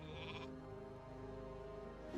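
A sheep bleats in the Warcraft 3 video game, a short wavering cry at the start that is layered over a dense game soundtrack and fades into the ongoing music.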